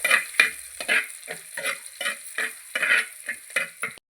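Dried red chilies and curry leaves crackle and sizzle in hot oil in a pan, with a series of sharp spattering bursts and stirring scrapes, close and fairly quiet.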